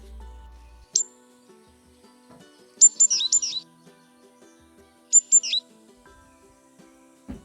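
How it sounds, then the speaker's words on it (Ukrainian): Sparrows chirp in a few brief bursts, high-pitched and twittering, separated by quiet stretches with a faint low hum underneath. "Так, це чівкають горобчики"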